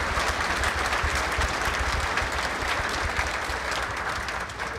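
A dinner crowd at a county Republican Party Lincoln Reagan event breaks into steady, dense applause, many hands clapping loudly and evenly throughout without talk.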